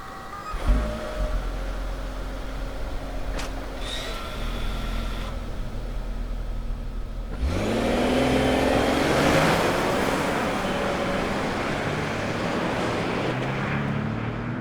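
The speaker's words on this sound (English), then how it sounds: "That acceleration definitely paints a smile on my face." A 2025 Lexus LX 700h Overtrail hybrid SUV accelerating, a low engine drone that swells from about seven seconds into a louder, broadband rush of engine and road noise, heard from inside the cabin with no talking.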